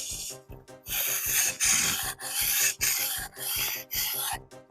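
Kitchen knife sharpened on the 400-grit side of a wet whetstone: steady rhythmic rasping strokes, about ten back-and-forth passes, close and loud with no talk.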